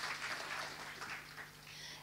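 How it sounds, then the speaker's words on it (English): Applause from a graduation ceremony audience in 2023, a steady wash of clapping that sounds somewhat distant and fairly quiet for about two seconds. "Please give them a round of applause."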